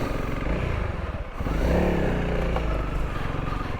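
Honda CRF300L dual sport motorcycle picking its way along a rocky goat trail, a loud steady engine drone with a brief dip and rise in revs, plus rattles and scraping from the rough ground.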